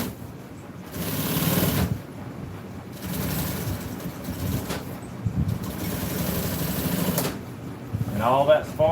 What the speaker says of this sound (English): I'm just gonna sew some original welt on here